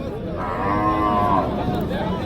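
A cow lets out one long, wavering moo nearby against the constant hubbub of a crowded cattle market in Jessore.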